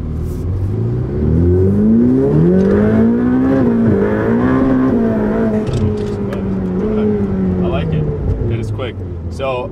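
A Ferrari F8 Tributo in race mode with traction control off accelerates hard through the gears, its engine note rising and dropping loudly and continuously from inside the cabin as the tires spin.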